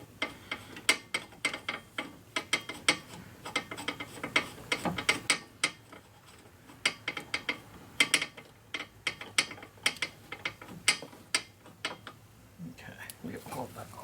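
A hand ratchet clicks in quick repeated strokes tightening bolts on a Mini Cooper rear wheel bearing, close and crisp, with short pauses between runs and a voice speaking at times.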